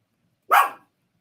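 A single short puppy bark, close and sharp, surrounded by silence.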